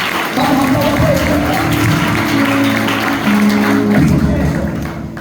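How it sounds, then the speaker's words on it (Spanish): Church congregation applauding during an evangelical Spanish-language service, sustained clapping mixed with crowd voices and background music tones, loud and continuous. "Aplauda al Señor allí."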